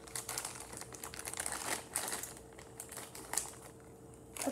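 A plastic baggie crinkles and rustles close to the microphone in quick, irregular bursts of crackling as it is handled and opened, with no talk over it.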